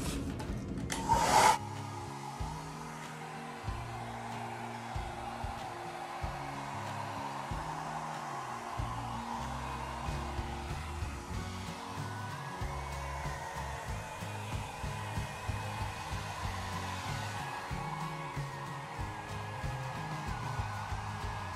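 Blown air pushed over poured acrylic paint colours, a steady close whirring hum of a blower running continuously, starting with a brief louder burst and otherwise unbroken.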